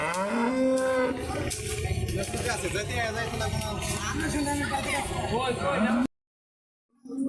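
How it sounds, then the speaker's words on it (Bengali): A cow moos loudly and at length at a cattle market, its drawn-out low call overlapping with crowd chatter before a brief silence. "গাই গরু"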